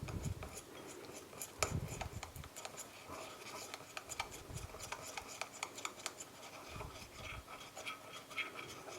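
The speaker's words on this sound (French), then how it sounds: "on mélange." Edible fake blood mixture being stirred in a bowl, a soft rubbing, scraping sound with light clinks, steady and close, quiet and without talk.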